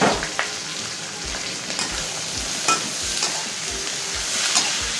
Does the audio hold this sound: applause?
no